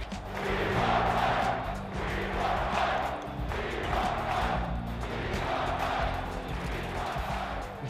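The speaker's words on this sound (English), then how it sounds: "the crowd wanted one more encore and started shouting" A basketball arena crowd roars and chants in a rhythmic, repeating pattern for Michael Jordan during his farewell tour, loud and continuous, with music or organ tones underneath.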